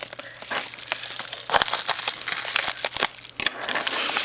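Paper wrapping on a mail package crinkles and crumples close to the microphone in dense, irregular bursts of rustling and crackling as it is peeled open.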